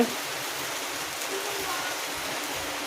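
Steady rain falls in a continuous, even hiss, moderately loud and close, with no other sounds standing out.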